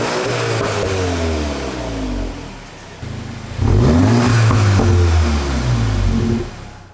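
A Volkswagen Mk8 GTI engine revs loud and close through an aftermarket exhaust with the rear muffler removed, rising in pitch, dropping, then surging again in a long sustained rev before easing off.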